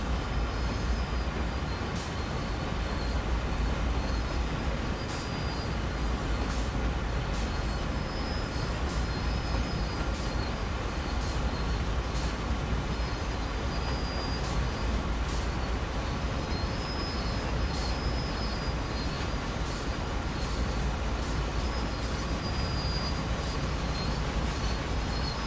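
A train in the Train Sim World 2 game rolls along steadily, with continuous rail rumble and faint high wheel squeal over about 25 seconds, no talk.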